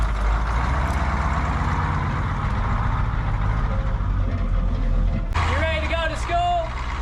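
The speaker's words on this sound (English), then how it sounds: "Maybe that was just the sound of it idling." An old bus that had sat unused for ten years idles with a steady low diesel rumble, joined near the end by brief higher tonal squeals and beeps, with voices talking over it.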